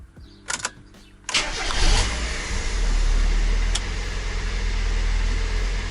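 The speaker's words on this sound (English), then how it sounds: "Now I'm going to start the car so the water pump can suck up the coolant." A Mazda MX-5 Miata NA engine cranks briefly after a few clicks, catches with a rising roar, then settles into a steady, rumbling idle close by.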